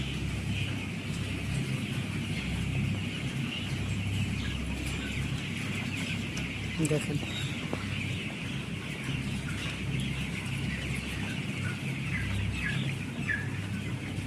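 On a Malaysian-style auto poultry farm, two-week-old broiler chickens cluck and chatter continuously as a dense flock, with a steady hum of farm machinery beneath and one brief spoken word.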